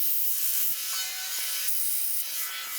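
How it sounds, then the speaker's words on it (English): A metal wedding ring, a band about 3/16 inch wide, is ground with a close, steady, high-pitched abrasive hiss that keeps going with slight rubbing variations. "I'm gonna grind on it a little bit"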